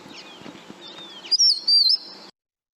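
A grassland bird recorded in South Africa gives a high, clear whistled call that rises into a sustained, warbling note, preceded by fainter chirps against a quiet outdoor background.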